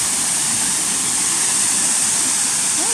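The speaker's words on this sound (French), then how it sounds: "on va plus entendre la fontaine que moi" The fountain at Place Verdun in Tarbes splashes in a loud, continuous rush of falling water, close by and unbroken, with no one speaking.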